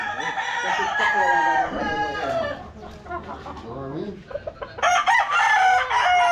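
Several roosters crow loudly and repeatedly, overlapping one another, with backyard hens clucking beneath and a brief lull before more crowing, on a farm in Bulacan, Philippines.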